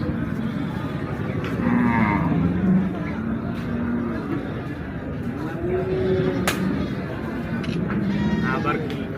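Cattle low repeatedly at the crowded Hazratpur cattle market, several long, drawn-out moos rising and falling over a constant hubbub of people talking nearby.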